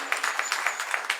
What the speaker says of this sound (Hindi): कितनी जोर जोर से तालियां बजा रहे हैं।